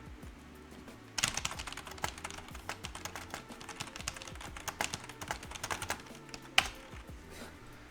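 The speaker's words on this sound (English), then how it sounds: "Roberto, the sound of your keyboard is so satisfying" Rapid typing on a mechanical computer keyboard, a dense run of sharp clicking keystrokes close to the mic with a few louder key strikes, steady throughout with no talking.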